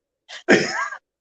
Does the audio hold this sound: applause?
no